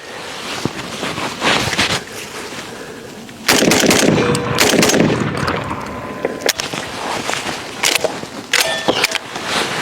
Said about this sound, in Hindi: रेट ऑफ फायर देखा आपने? That's the difference between a semi automatic and a pump action.